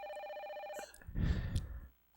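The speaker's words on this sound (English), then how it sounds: "Oh, my save point is ringing." A telephone rings at a save point in the Parasite Eve video game, a steady electronic trill heard clearly for under a second before a burst of louder game noise takes over.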